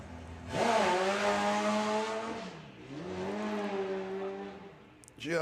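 A drag racing funny bike launches hard down the strip, its engine roaring in a loud sustained drone that dips and rises again as it pulls away, with a commentator talking over it.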